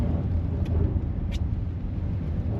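Nissan e4ORCE car driving on ice in Finland: a low, steady rumble of the car moving with a couple of faint high ticks, heard alone with no talk.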